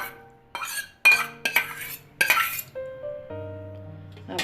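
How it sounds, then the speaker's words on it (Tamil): Chopped mango pieces drop into a steel mixer jar with a series of clinks and soft thuds, spoon tapping against the metal rim, close and fairly quiet with no talking. "இப்போ நம்ம சாப் பண்ணி வச்சிருக்கிற மாம்பழத்தை போட்டுக்கலாம் மிக்ஸி ஜார்ல"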